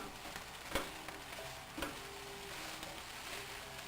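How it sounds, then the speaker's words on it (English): Food fries quietly in a non-stick frying pan, a soft, even sizzle broken by two sharp knocks of the stirring utensil against the pan. "keep stirring as you fry"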